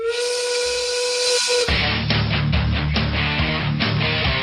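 A loud steam whistle blows a sustained hissing tone for about a second and a half, then cuts into loud rhythmic music that carries on to the end.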